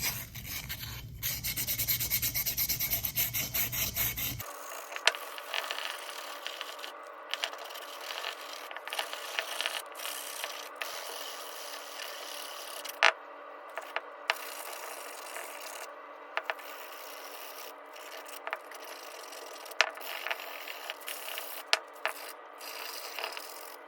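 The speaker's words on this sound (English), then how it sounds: "you need to do this over a mat for sure. Then you can sit down and just start sanding" Fired ceramic piece hand sanded over a mat, a steady scratchy rubbing that runs continuously at close range, broken by a few sharper scrapes and clicks; no one speaks.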